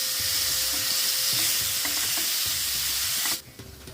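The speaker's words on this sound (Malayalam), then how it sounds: "ഇത് ചേർത്ത് നന്നായിട്ടൊന്ന് പച്ചമണം മാറണ വരെ നന്നായിട്ടൊന്ന് വഴറ്റി കൊടുക്കാം" Ginger garlic paste sautéing in hot oil for prawn pickle, a steady loud sizzle with soft scraping stirs of the spoon, stopping abruptly near the end.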